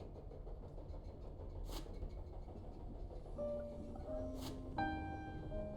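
Quiet rumbling interior ambience of a train carriage in the horror adventure game The Charnel House Trilogy, a steady low drone with faint rattles, a couple of brief hissing bursts and soft tonal chimes near the end.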